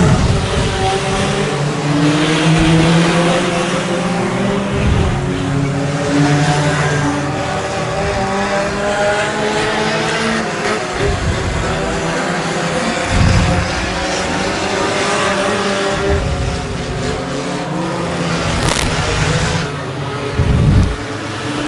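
Race cars lap the track at Double X Speedway during an A-main race, a loud sustained roar of engines rising and falling as the pack passes, with rumbling bursts of acceleration throughout.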